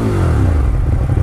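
A 2018 Ducati Monster 1200S with an aftermarket exhaust idles and revs up close, a loud, steady low engine rumble with rising harmonics.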